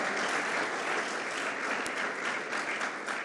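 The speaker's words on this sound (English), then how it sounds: "So let's give them a round of applause and congratulations to them." A crowd at the grand opening of Rivers Casino and Resort in Schenectady applauds in a continuous, even wash of clapping that stays steady from start to finish.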